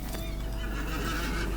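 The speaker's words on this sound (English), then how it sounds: "So let me get on my horse here" A horse in the Lord of the Rings Online video game gives a loud, close whinny as a player mounts it, a single drawn-out neigh with faint hoof clip-clop behind it.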